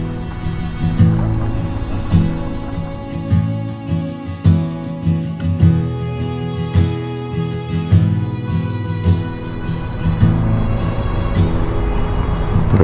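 A Honda Trail 125 motorcycle rides along a woodland road, its small engine droning steadily and close with shifting harmonic tones and occasional bumps, no voices.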